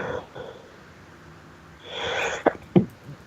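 A person at a tabletop role-playing session sneezes, giving a quick double burst near the end after some soft murmuring and breathing.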